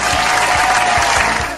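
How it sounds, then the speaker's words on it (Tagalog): A group of listeners bursts into dense, loud applause, steady clapping that fills the whole moment close by and tapers slightly at the end. "Pumalakpak!"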